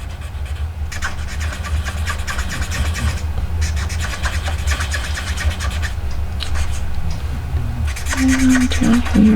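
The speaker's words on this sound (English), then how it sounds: "I'm going to come back in with that blender or lifter, and I am just going to smooth everything out just like this" A colored pencil blender being rubbed smoothly over a 3D pop-up Christmas card, giving a close, continuous scratchy rubbing with short pauses between strokes.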